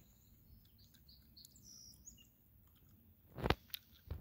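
Faint bird chirps and short calls over a quiet outdoor background, followed by a couple of louder sharp knocks or crunches near the end.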